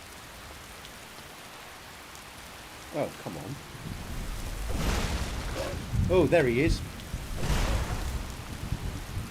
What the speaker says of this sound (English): Oh, this is getting really heavy. This rain now.